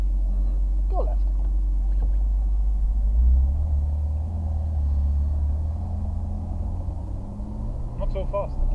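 A car pulls away in first gear, its engine a low steady rumble that rises slightly and stays close, with people talking over it.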